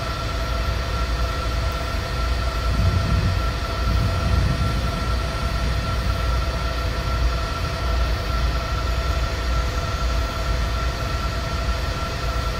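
A locomotive-hauled train runs steadily in Train Simulator 2020, a loud, continuous rumble with a sustained high mechanical whine and tonal hum and no pauses.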